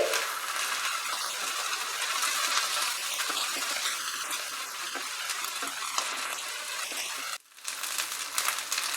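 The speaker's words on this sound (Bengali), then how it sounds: "আদা রসুনটা দেওয়ার পরে আরো 2 মিনিট মতো আমি এটাকে ফ্রাই করে নিচ্ছি" Ginger-garlic paste frying over medium heat in a pan for tawa chicken, a steady dense sizzle throughout that drops out briefly near the end before resuming.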